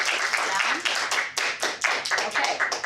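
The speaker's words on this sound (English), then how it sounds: "So again, a round of applause for our contestants." Audience at a Toastmasters club meeting applauding the contestants: a steady run of dense, close hand claps lasting throughout, with a few louder individual claps standing out.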